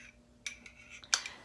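Something stirs garlic butter with seasonings in a bowl, giving a few quick close scrapes and clinks of utensil on bowl, sparse and faint, with quiet gaps in between.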